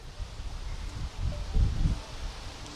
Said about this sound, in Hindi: इस वक्त भी तेज हवाएं और बारिश जो है उसका सिलसिला गोवा में इस वक्त भी शुरू है